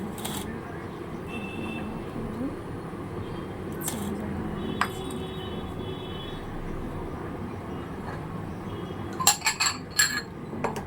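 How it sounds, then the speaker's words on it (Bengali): A lid set down on a large curry pan on a gas stove gives a few sharp metallic clinks near the end, over low kitchen hum and faint background noise. "তো ঢাকা দিয়ে গ্যাসে দিচ্ছি"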